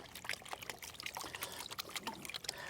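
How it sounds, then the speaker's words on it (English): Water swirling and trickling in a gold pan over black sands, a soft, steady sloshing with irregular splashy bursts, fairly faint and close, with no talking. "Continue to pan it because you still want your gold to go down through there."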